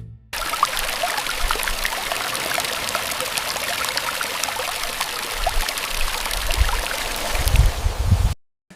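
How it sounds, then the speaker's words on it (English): Steady broadband rush of water flowing over a soil surface, continuous and fairly close, with low gurgling bursts toward the end before it cuts off. "The water just flows away over the surface"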